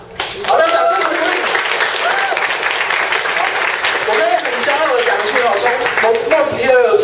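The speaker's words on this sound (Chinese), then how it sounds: "好的，掌声鼓励" Audience applause at a Mozilla Taiwan community tech talk swells after a faint start and holds loud and steady for several seconds, with voices talking over the clapping.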